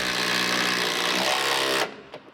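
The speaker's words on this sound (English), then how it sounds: "Now we're gonna put our structural screws through our kings into the beam" A power driver sinks a structural screw through king studs into a framing beam, a loud, close, continuous whir for nearly two seconds that stops abruptly, followed by a faint knock.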